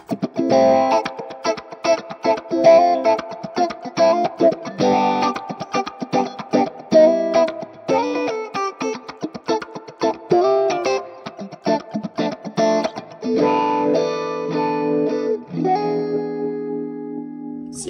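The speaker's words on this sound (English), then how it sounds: "I'm gonna turn on this wah and essentially kind of like a wah and envelope filter thing." An electric guitar through wah and envelope filter effects on a Hotone Ampero II Stage pedal plays a rhythmic run of plucked notes, tones swelling and shifting, ending on sustained chords.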